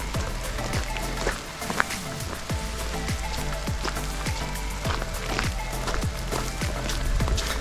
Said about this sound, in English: And it feels less rainy when you're under the trees here.